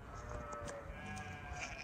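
Young rams bleat at a sheep farm, a short wavering call heard amid a noisy outdoor background.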